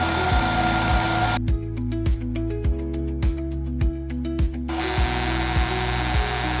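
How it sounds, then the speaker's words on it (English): A Sculpfun laser engraver runs during focus calibration, giving a steady buzzing hum with regular clicking pulses and a brief denser burst of engraving noise in the middle, close and continuous with no talk. "Pay attention to the engraving sound."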